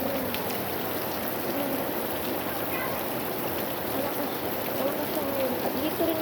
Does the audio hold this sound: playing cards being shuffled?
no